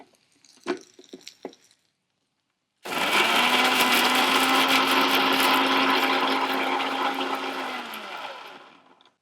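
A mixer grinder runs loud and steady for about six seconds, whirring as it grinds ingredients into a paste for vellarikkai mor kulambu. A few short clinks come first, then a brief pause before the motor starts.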